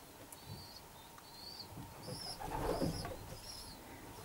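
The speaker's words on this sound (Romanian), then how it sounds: "Acesta este porumbelul, primul porumbel sosit." A racing pigeon, the first bird home from a long-distance race, coos softly against a faint background, while high chirps of other birds repeat at intervals over a low murmur.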